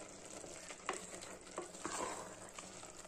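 Mushroom biryani rice being stirred up from the bottom of a pot on the stove, with a soft steady sizzle under repeated scraping strokes of a spoon against the pot, with no voices.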